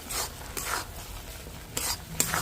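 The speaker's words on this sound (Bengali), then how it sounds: "খুব ভালো করে এবার গাজরের সাথে মিশিয়ে নেব" Powdered milk being stirred into grated carrot in a pan, heard as repeated soft scraping strokes of a spoon against the pan with a light sizzle underneath, close and fairly loud.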